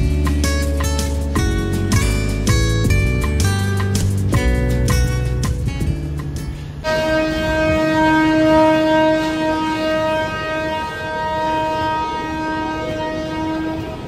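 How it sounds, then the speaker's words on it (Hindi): At a railway station, a train sounds a long, loud horn blast after a stretch of clanking rail noise, the sustained tone holding close and steady for several seconds with no talking. "अब इंतज़ार करते हैं कब यहाँ ट्रेन बढ़ेगी"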